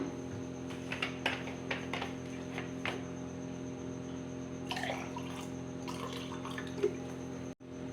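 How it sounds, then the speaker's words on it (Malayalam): Water pours in uneven splashing bursts into a small pot over a constant low background hum, with brief pauses between pours. "നമ്മൾ വാട്ടർ ഒഴിക്കാൻ പോവാണ്"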